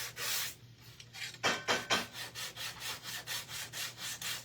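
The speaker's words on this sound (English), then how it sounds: "I'm going to use my gator sander. And I'm just going to distress or sand the edges." A gator hand sander is rubbed back and forth over the wooden edges of a craft piece, making a steady series of rhythmic rasping strokes, close and fairly loud, with no talking.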